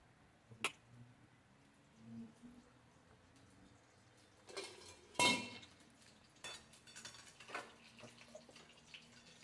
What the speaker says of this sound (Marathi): मोहरी चांगली तुडतुड द्यायची